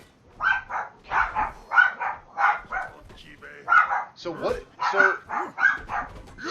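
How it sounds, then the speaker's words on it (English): Two packs of dogs bark in the video game GORN, rapid rhythmic barking in repeated bursts at moderate loudness, with a voice speaking briefly partway through. "we get 2 sets of dogs barking this time"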